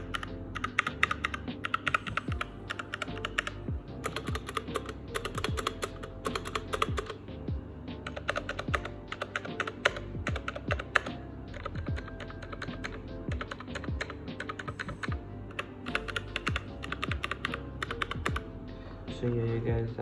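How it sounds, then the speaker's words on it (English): Typing on a MageGee 75% budget keyboard with red switches: a fast, continuous patter of close, crisp keystrokes, with occasional louder thock-like presses and clacks standing out from the steady rhythm. "I'm gonna give y'all a quick sound test of how it sounds"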